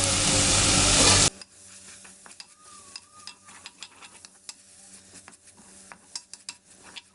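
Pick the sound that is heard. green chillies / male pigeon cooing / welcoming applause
green chillies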